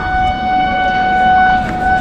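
A local train at Katwa station, West Bengal, about to depart sounds a long steady horn over a low rumbling platform background.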